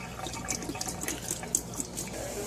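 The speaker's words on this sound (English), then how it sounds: "just spill out the water" Water from a can of corn spilling out into a sink: a short, faint splashing trickle with small irregular drips and splatters.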